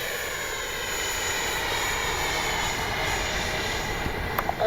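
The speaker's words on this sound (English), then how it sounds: "This is like one of the best little jets, 70 millimeters," An FMS Avanti S 70mm electric ducted-fan RC jet flies past with a steady whooshing whine that holds for several seconds, distant and fairly even, with a faint bump near the end.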